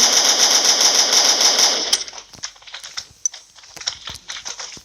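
Rapid automatic gunfire from a gun in a modded Minecraft Pocket Edition game rattles loudly for about two seconds, then gives way to scattered sharp clicks and thuds.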